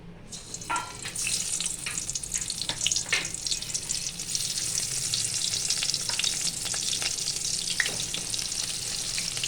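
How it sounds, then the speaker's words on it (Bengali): Eggplant slices sizzle and crackle steadily in hot oil in a wok, a continuous close frying hiss with occasional sharper pops throughout. "তেলটা গরম হয়ে গেছে, এখন বেগুনগুলো ছেড়ে দেবো"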